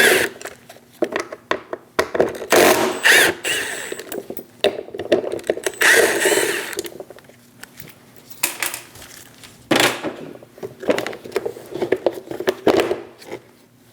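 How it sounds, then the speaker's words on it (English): A T25 Torx bit backs three screws out of the rear power window motor on a Dodge regulator assembly, giving repeated close, loud ratcheting and grinding bursts separated by short pauses. "Using a T25 bit, remove the 3 screws for the motor."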